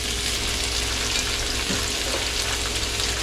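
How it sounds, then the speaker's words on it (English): Fajita vegetables sauté in a hot pan, giving a loud, steady, close sizzle that runs unbroken throughout with no voices. "This is how you saute."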